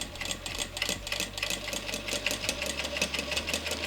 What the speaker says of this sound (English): let's go ahead and sew it. Make sure you back stitch always.